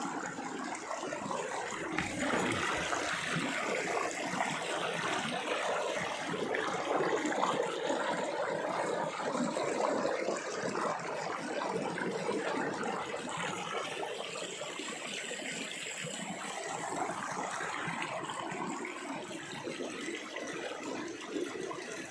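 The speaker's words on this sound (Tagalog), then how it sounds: "Ito po yung ilog. Sarap pakinggan yung tunog ng tubig." A river on a farm flows with a steady, broad rushing wash of water that stays even and fairly close throughout, with no voices over it.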